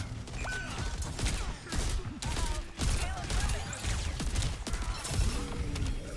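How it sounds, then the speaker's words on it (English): Chaotic Overwatch combat with repeated grenade blasts and crashes, loud impacts landing one after another amid game effects, with faint voices underneath. "it's like 100 grenades is going at me at all times"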